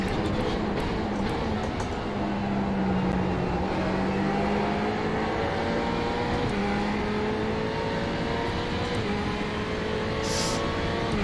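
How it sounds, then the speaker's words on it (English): Ferrari GT3 race car engines in iRacing at Okayama, a steady loud drone with rising and falling tones as the car accelerates and shifts gears, another car's engine close by. "Close enough to hear his engine."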